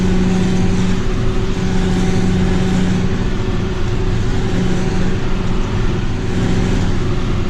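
A tractor mowing second-cut silage around a field headland, its engine a steady, loud drone with a constant low hum and mower whir throughout, no voices.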